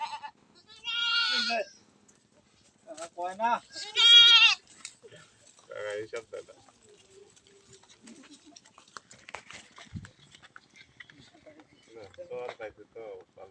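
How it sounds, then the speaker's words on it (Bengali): Goats bleating outdoors: several loud, wavering bleats come in separate bursts, close by, between stretches of quieter sounds, with people talking in between. "ও কাকা, কতুলা ছাগল?"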